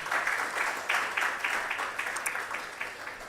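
An audience at the inauguration of the WAGMC Genomic Medicine Building applauds in a moderate, rippling burst of clapping that gradually thins out over a few seconds, heard from a slight distance.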